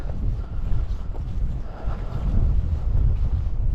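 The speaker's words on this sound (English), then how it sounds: "Anyway, it's quite windy." Strong wind blows at Loch Doon, a loch with low water, roaring and buffeting the microphone in a continuous low rumble that swells and eases, with no voices.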